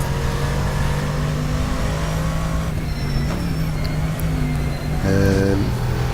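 A GT3 race car engine in Assetto Corsa during an online race, a loud sustained drone with gear changes and a climbing rev near the end.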